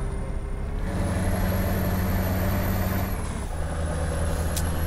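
A Scania V8 truck engine in a video game, droning and revving steadily, a low rumble with rising engine tone and a brief hiss near the end.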